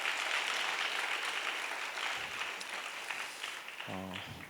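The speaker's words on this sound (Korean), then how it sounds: "안재원 형제에게 감사의 박수 하겠습니다" Applause from a church young adults' worship congregation, thanking a young man for a special offering performance, a broad steady patter of many hands that fades slightly near the end, with a brief low murmur of voices.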